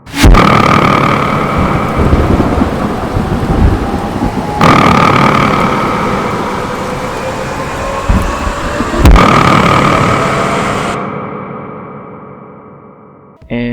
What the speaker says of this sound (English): I added some thunder effects and some rainy ambience.